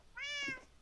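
A single cat meows once, a short, clear, close mew rising and falling, heard alone without talk.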